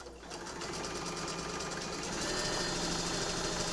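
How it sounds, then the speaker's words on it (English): Sewing machine stitching a straight seam along drawn lines over pins, a steady rapid mechanical whir close by, running continuously and rising slightly in level, with no talking. "I'm going to now sew along those lines that I drew."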